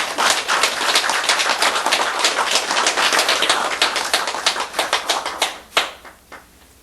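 Audience applause at a Buddhist dharma lecture on the Lotus Sutra: dense, loud clapping from a seated crowd that holds steady, then thins into a few scattered claps and fades away.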